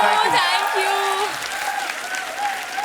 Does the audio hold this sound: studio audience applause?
yes